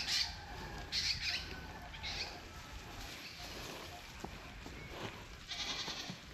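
Several goats in a rural Romblon setting let out sharp, nasal bleats, a cluster near the start and more toward the end, with soft outdoor ambience between the calls.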